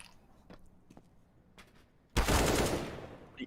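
Burst of automatic gunfire in a competitive shooter game, a dense sustained volley after a few scattered clicks, loud and close, slowly tailing off.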